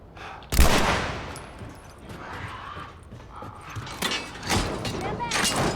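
A gunshot rings out in The Last of Us during a stealth section on a highway, one sharp loud crack followed by quieter ambient game sounds and a few later thuds, with someone talking over the scene.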